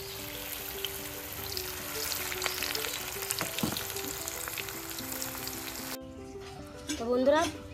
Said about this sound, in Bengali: এইভাবে বাকিগুলো সব ভেজে নিই।